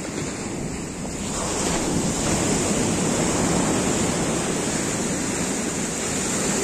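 Loud, continuous ocean surf in Sri Lanka with waves washing in, mixed with strong wind buffeting the microphone.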